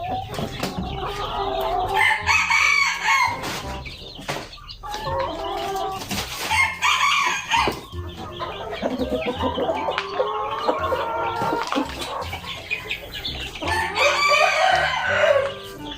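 Chickens and roosters in a caged farmyard flock cluck and crow in overlapping bursts, some near and loud, with wing flaps and a busy, continuous backdrop of fowl calls.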